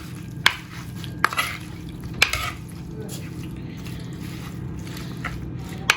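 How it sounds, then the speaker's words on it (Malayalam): Cut lemons being mixed with turmeric powder and salt for a Kerala lemon pickle, giving soft squishy stirring sounds with a few sharp clinks of a spoon against the bowl, close and quiet. "നന്നായിട്ട് ഇതൊന്ന് മിക്സ് ചെയ്തിട്ട് കുറച്ചു നേരം മാറ്റി വെക്കാം"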